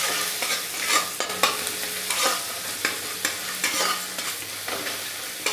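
Tomatoes with turmeric and salt are stirred in a hot pan: a busy, continuous sizzle with repeated scraping strokes of a spoon, close and fairly loud.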